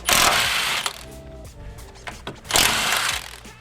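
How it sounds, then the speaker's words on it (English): An impact wrench spins 14 mm bolts on the front subframe of a Nissan 350Z, with two loud, harsh bursts, one at the start and another near the end, separated by quieter clanking. "You need an impact with 2 sockets, 19 and 14. So let's start with the 14s."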